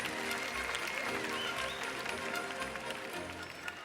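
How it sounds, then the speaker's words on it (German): Audience applause at a Christmas-themed morning session of a TeenStreet youth gathering, a dense, steady wash of clapping mixed with crowd noise that holds for several seconds at moderate distance. "Einmal Applaus für unseren Weihnachtsengel."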